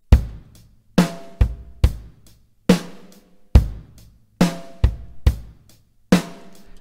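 A programmed drum pattern on an eight-division grid at a slow 70 BPM, punchy kick and snare hits with ringing decays spaced in an uneven groove, loud and dry with no voices.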